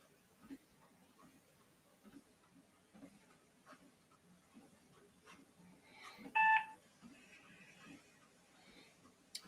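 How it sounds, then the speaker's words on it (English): Telephone keypad dialing tones during a commercial real estate cold call, a short burst of several loud, close beeps in quick succession over a quiet room with faint background sounds. "let's redial the number because I'm feeling generous right now"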